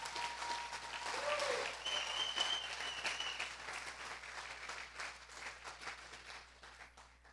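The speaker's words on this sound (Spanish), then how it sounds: "Dale un fuerte aplauso al Rey." A church congregation applauds during a family worship service, a fairly distant wash of clapping that swells early and then gradually fades, over a steady low electrical hum, with faint voices mixed in.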